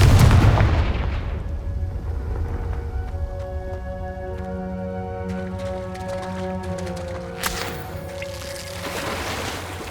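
Confringo fire spell blast in the video game Hogwarts Legacy, a heavy booming impact at the start followed by a low rumbling decay, with a later sharp crackling hit and lingering tonal hum.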